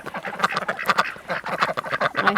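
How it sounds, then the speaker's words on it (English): A group of backyard ducks quacks loudly and repeatedly at close range, overlapping calls in a busy, rapid chatter with no speech. "All right, ducks."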